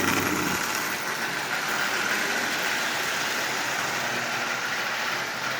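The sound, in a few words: Marx toy train single reduction motor running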